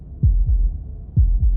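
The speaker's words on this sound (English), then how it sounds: "That was the sound of a heartbeat." Heartbeat in the video game Slay the Princess: two pairs of deep, throbbing lub-dub thumps, evenly spaced and fairly loud over a low hum, with no voices.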